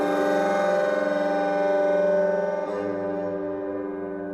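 A music track run through the Effectrix plugin gives off a sustained, harmonically rich synth tone with a siren-like sweep and a rhythmic stutter. It plays loud and alone, shifting texture partway through.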